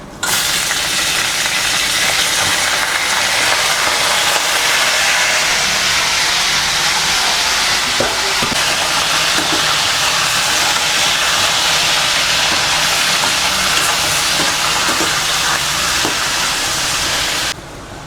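Steady broadband sizzling of mutton and green chillies frying in hot oil for Chettinad mutton chukka, loud and close, with occasional pops and clinks from stirring.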